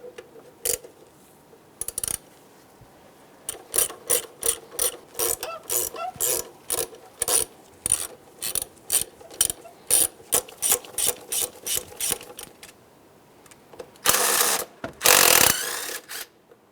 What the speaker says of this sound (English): To remove our throttle body from the vehicle, we have 2 12 millimeter nuts and 2 12 millimeter bolts.